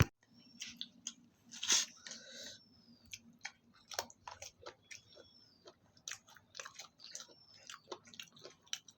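A child eating chicken and potato curry makes faint, close chewing and smacking sounds in irregular bursts, with small bites and wet mouth noises in a quiet room.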